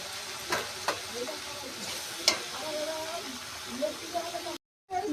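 Shapla water lily stems fry in hot oil in a pan, sizzling and hissing with occasional stirring knocks, faint and close, cutting out briefly near the end.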